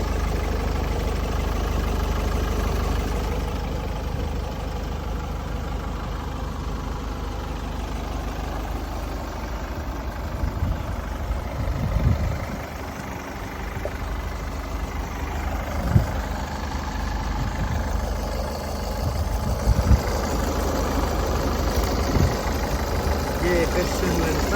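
The 2.0-litre diesel engine of a 2013 Ford Kuga idles nearby with a steady low rumble throughout, while people talk over it.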